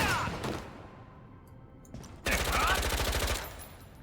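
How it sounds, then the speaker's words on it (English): A Deadeye's handgun skill in Lost Ark fires two loud, dense bursts of rapid shots with a quieter stretch between them, the second burst longer and heavier. "Fires your handgun across the broad area"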